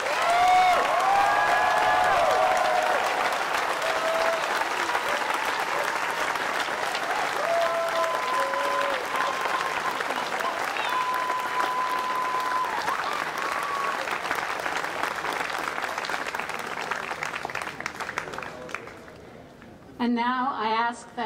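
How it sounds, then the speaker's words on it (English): Audience at a 2010 University of Oregon summer graduation ceremony applauding master's graduates, a long, loud, dense wash of clapping with some cheering and faint whistles, fading near the end as a voice begins speaking. "Let's have a great round of applause for all of our master's graduates."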